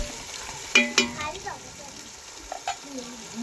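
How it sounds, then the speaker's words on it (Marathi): Onion, tomato and chilli sauté in a pan for biryani, giving a low steady sizzle with a couple of sharp utensil clinks near the start and a faint voice in the background. "कांदा टमाटर आणि मिरची छान असं परतून घेते."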